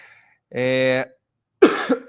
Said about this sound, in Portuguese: Desculpa, gente, eu estou ainda saindo de uma gripe, tá? Se eu der umas tossidas aqui.